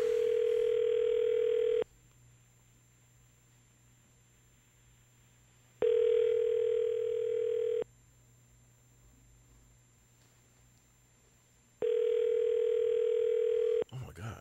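A telephone ring-back tone pulses in three long even bursts separated by quiet gaps while a call to a store's customer line is put through, with a faint steady hum beneath.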